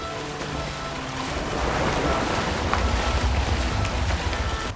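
A boat sails across ocean waves in the ARK Genesis Ascended video game, with continuous rushing surf and wind noise swelling slightly louder over several seconds, no talking.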